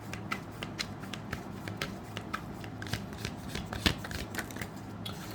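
Tarot cards are shuffled steadily, a dense run of quick, crisp riffling flicks that keeps going for several seconds, close and moderately quiet.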